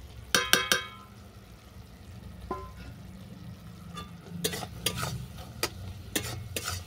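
Apple chutney is stirred in a pan after roasted ground spices go in, with a quick cluster of scraping strokes at the start and more spoon scrapes later over a low steady sizzle.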